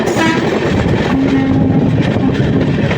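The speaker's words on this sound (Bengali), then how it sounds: "আর বেরিয়ে যাচ্ছে কাঞ্চনজঙ্ঘা এক্সপ্রেস" Kanchenjunga Express pulling out, loud continuous rumble of the rolling carriages close by, with a drawn-out horn tone sounding partway through.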